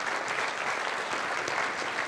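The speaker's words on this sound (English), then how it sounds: "So maybe a round of applause for them," A dense, steady round of applause from diners at a classical dinner fundraiser, many hands clapping together in a continuous wash without a break.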